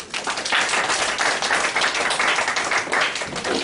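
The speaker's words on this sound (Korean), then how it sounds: "박수로 맞이하겠습니다." A church congregation claps steadily to welcome a preacher, a dense, even wash of applause that holds for several seconds without voices.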